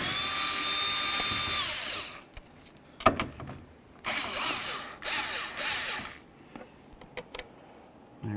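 A power drill whines in bursts while backing out the three fasteners that hold the driver's side mirror on a 2003-07 Chevy Silverado, with a long initial run followed by several shorter spins and pauses, close and fairly loud.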